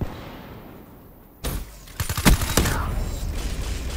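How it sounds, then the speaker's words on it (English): Guns fire in the Black Ops 3 video game, a burst of sharp cracks and rattling shots after a quiet start, then continuing noisy action. "I'm just shooting just to distract him"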